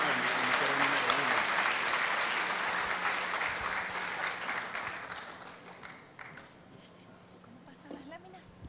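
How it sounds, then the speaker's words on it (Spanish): Strong applause from the audience at an information security congress, a thick clapping roar that gradually fades over several seconds to scattered claps, with a voice beginning to speak as it dies away. "Recibamos con un fuerte aplauso"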